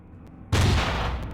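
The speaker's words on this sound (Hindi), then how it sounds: "अपने ऊपर ही बम फोड़ रहा है," A bomb explosion in the video game Slaughter Part 5 during a boss fight, one sudden loud blast that starts abruptly after a quiet hum and rumbles on heavily.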